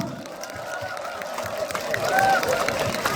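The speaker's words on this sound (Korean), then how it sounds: "우리 참가자분들 그리고 우리 제작진분들께 고생하셨다고 큰 박수 부탁드립니다" Audience applause and cheering at the Daegu Powerful Daegu song festival, a broad crowd roar with clapping that swells louder toward the end, under faint voices.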